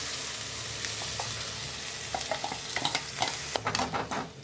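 Ground masala with ginger and garlic fries in a pan for a road-side pani puri kulambu, a soft steady sizzle broken by scraping stirs and clinks that grow busier toward the end.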